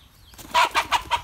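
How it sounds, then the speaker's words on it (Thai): Chickens cluck in a quick series of four or five loud, close bursts, each a short throaty squawk. "ไก่ตกใจเรานะครับ"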